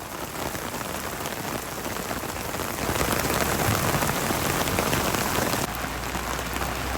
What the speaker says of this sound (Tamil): வெளிவீழ்ச்சி அருவியில் தண்ணீர் ஆர்ப்பரித்து கொட்டி வருகிறது